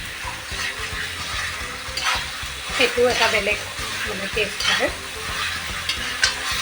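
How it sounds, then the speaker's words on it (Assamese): Spices for a mutton curry with curd fry in a kadai, sizzling loudly and close while a spoon stirs and scrapes in bursts; a person speaks briefly over the cooking. "মই মাটন বনালে সাধাৰণতে মই কেৰাহীতে মছলাখিনি ভাজি লওঁ"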